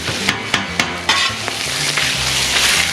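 Brisket sizzles on a Blackstone griddle, a steady loud frying hiss with several sharp metal spatula clacks early on as the meat is chopped and stirred.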